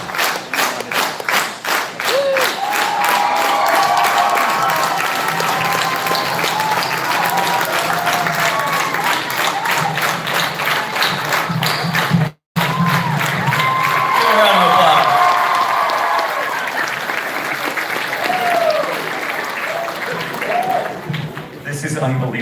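Convention crowd at an anime comic con in McAllen, Texas clapping steadily in a loud, sustained rhythm, with cheers and voices mixed in and a brief cut midway.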